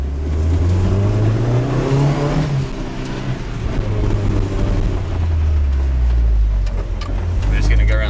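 A car with a Holset turbo, FreeEMS engine management and no handbrake pulls away from the blocks holding it, its engine droning loudly and rising in pitch as it accelerates, with a person talking over it.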